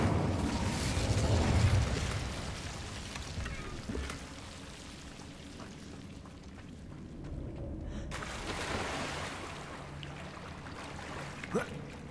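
Incendio fire spell cast in Hogwarts Legacy, a whooshing burst of flame followed by a low rumbling roar, loud at first and fading into crackling ambience with a sharp pop near the end.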